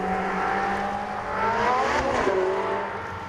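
A Ferrari 458 Italia's direct-injection V8, paired with a 7-speed twin-clutch gearbox, revs up, climbing in pitch, peaking, then easing off, a single rising and falling engine note heard close.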